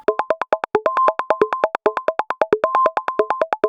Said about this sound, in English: So we have an interesting sequence here, sequence pinged filter.